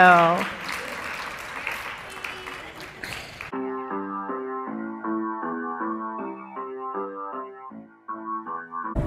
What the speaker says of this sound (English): look at them clapping for you